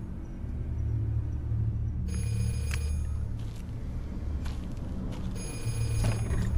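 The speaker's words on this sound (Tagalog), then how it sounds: "Tumatawag sa telepono." A telephone in the horror video game Curse Digicam rings in repeated electronic bursts over a low rumbling ambient drone, clear and fairly close with no talking.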